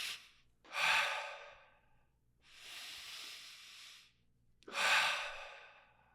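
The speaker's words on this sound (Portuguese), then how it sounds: "Inspira e solta o ar." Slow, deep breaths in and out through the nose or mouth, close and soft: three long airy hisses separated by short pauses, with no talking.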